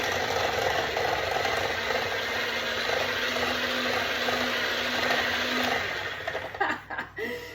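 Electric mixer beating cake batter for a Victoria sponge cake, a loud steady whirring motor drone that holds for several seconds before stopping with a few clattering knocks.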